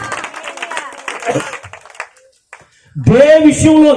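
A church congregation at a revival meeting claps hands together in dense, steady applause for about two seconds, then goes quiet before a voice speaks loudly close by.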